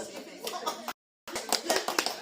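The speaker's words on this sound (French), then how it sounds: "on va applaudir" A church congregation at a Sunday service claps in short bursts around a brief silent gap, with voices mixed in.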